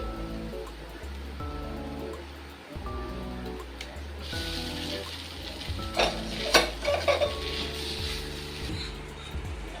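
Street-style egg noodles are stirred in a pan, with scraping, clattering utensil strokes and faint sizzling that grow busier in the second half, over steady tonal background music.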